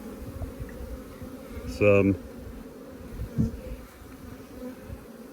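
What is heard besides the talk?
honey bees buzzing at an open hive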